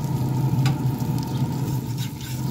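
Eggs and bacon frying on a Green Mountain Grill griddle, a steady close crackling sizzle with a low hum underneath and a few sharp spatters poking out.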